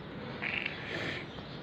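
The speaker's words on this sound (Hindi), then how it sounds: "आप लोग चिड़ियों की आवाज़ें देख सकते हैं।" Birds calling outdoors in the early morning, a couple of faint, brief chirping phrases over a quiet background hiss, distant and soft.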